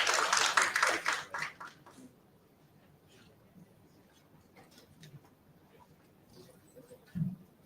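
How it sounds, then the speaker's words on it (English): Applause from a conference audience welcoming a speaker at a national HIV/STI research dialogue, a short burst of clapping that fades out within about two seconds, followed by faint room noise. "Please help me welcome her with a round of applause."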